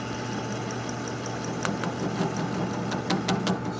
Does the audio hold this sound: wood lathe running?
yes